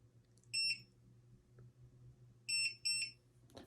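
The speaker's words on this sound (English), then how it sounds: "press the program button for 3 more seconds. 2 beeps." An RPNB biometric gun safe gives short, high electronic beeps while being programmed: one beep, a pause, then a quick pair of beeps close by over a quiet room.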